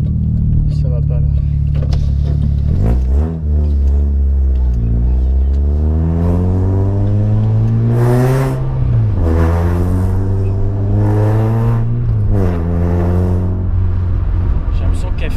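A car engine with a new air intake revving up and down repeatedly, close and loud, the rising and falling pitch sweeping through several surges with a deep, throaty exhaust note.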